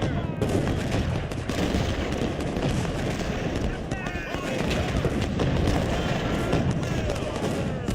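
Dense musket volleys crackle in Ultimate General: Civil War, a continuous rattling fusillade of overlapping shots with scattered louder reports, loud throughout the battle din while a voice speaks over it.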